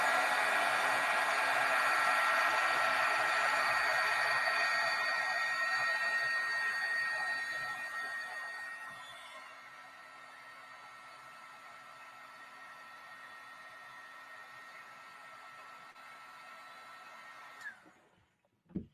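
A heat tool blasts a steady hiss of hot air over wet stencil butter, loud at first, then dropping to a softer, quieter blow before cutting off with a click near the end.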